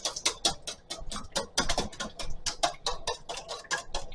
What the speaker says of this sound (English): Now go ahead and you're just going to beat them by themselves.